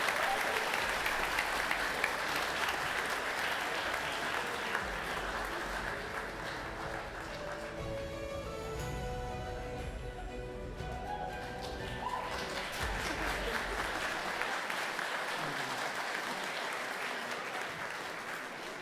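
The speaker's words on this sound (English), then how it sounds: "Let's give a round of applause for Rebekah Muzyk" Sustained applause from an audience at the LEAFYs, a college athletics awards ceremony at Goshen College, a dense steady roar of many hands with a short faint tonal swell in the middle.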